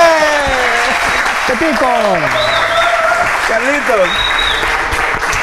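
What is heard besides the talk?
audience applause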